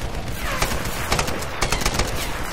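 Rapid minigun fire in the Tomb Raider video game, dense bursts of gunfire crackling continuously and loudly with sharp cracks throughout.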